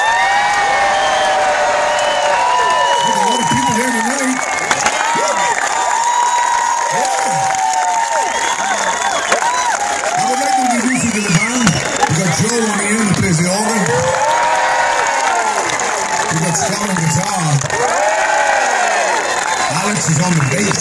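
A large concert crowd at a show in Bedford keeps up loud, continuous applause and cheering, with whoops and shouts over it, and a voice speaks over the noise.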